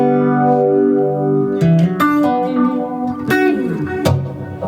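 Electric guitar lead tone with a phaser effect, played through a Morningstar MC8 MIDI-controlled rig: loud sustained notes and short phrases with sweeping, swirling tone and ringing overtones, no talking.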